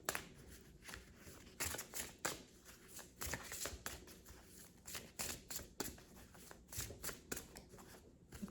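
Tarot cards are shuffled and pulled from a deck, a run of close, quiet riffling and flicking bursts in an uneven rhythm, heard alone without talk.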